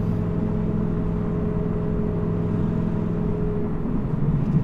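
A twin-turbocharged Audi R8 engine runs with a steady, deep, rumbling drone at close range. The tone holds even and continuous, with only a slight swell near the end and no sharp revs.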